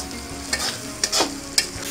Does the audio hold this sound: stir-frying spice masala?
yes